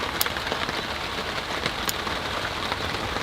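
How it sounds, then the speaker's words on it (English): Steady rain falls hard outdoors in a garden on a warm day, a dense, even patter with occasional louder drops hitting nearby surfaces; no one speaks. "The rain is getting quite hard out here."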